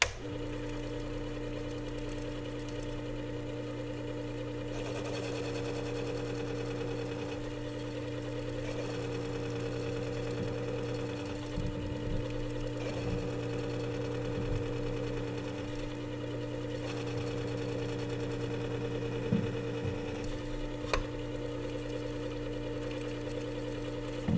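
Work Sharp WS3000 sharpener grinding a chisel bevel on 1000 grit abrasive, a steady motor hum with low drone throughout and occasional light scraping bursts as the steel meets the spinning disc.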